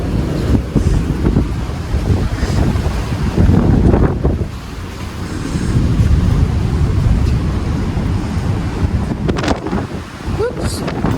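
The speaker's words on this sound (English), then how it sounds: "Lovely in the sunshine today, just very windy." Strong wind buffeting the microphone on the sunny deck of the cruise ship P&O Iona, a loud, continuous roaring rumble with gusts that swell and ease throughout, with faint voices now and then.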